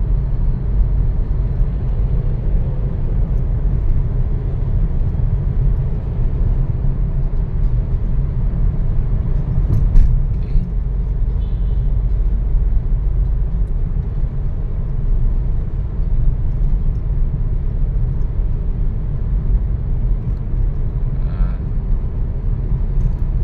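Traffic on EDSA rolls through the Ayala Tunnel underpass, southbound, as a loud continuous low rumble and roar of engines and tyres echoing in the enclosed space, with one brief sharp knock partway through.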